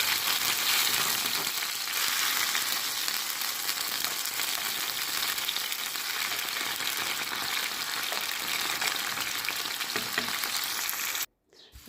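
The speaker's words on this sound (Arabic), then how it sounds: "غادي نضيف هنا عندي حبه بصله صغيره مغابيه مع شويه تاع الثومه، حبيبات تاع الثومه. نخليها تتقلى مزيان" Small onion and garlic cloves fry steadily in oil in a tagine, giving a dense, even sizzle that crackles loudly and continuously before stopping abruptly near the end.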